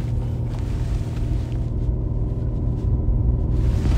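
A BMW M3 Competition Touring launching hard from a standstill, its engine a loud, continuous low rumble that builds steadily through the run with no talk over it.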